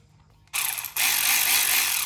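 A ratchet fitted with a 1/4 inch socket turns while a hole is worked in a vent on a 2021 Camaro SS 1LE, giving close, rapid clicking that starts after a short silence.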